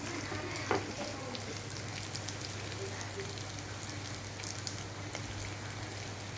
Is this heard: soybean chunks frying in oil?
yes